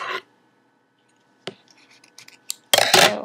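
Scissors snip off the tail of crochet yarn on a crocheted jellyfish: a short crisp cut close to the microphone, with small handling rustles, in an otherwise quiet room.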